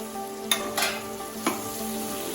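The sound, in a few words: chicken meat stirred and frying in a pan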